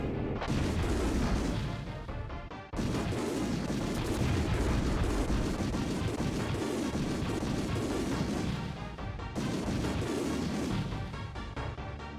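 Bomb explosions from the video game Super Bomberman 5 on the SNES erupt as loud, dense booming blasts in repeated waves, each rumbling on for several seconds with short breaks between.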